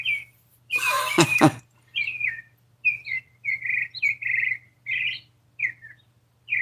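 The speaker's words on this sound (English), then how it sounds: "them are birds singing in my trees" Birds sing outdoors in trees on a nice day, giving short chirps repeated at a steady pace under a faint low hum. A loud rough burst near the start briefly covers them.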